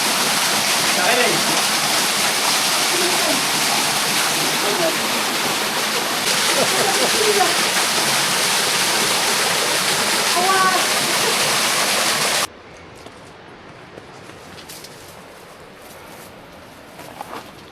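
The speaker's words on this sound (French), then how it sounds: "cette cascade, elle se mérite" A waterfall roars as a loud, dense, continuous rush of water for about twelve seconds, then cuts to a much quieter background with faint scattered sounds.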